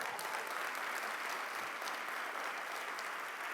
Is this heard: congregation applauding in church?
yes